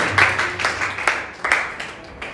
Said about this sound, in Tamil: கைத்தட்டி ஒரு ஆமென் சொல்லுங்க.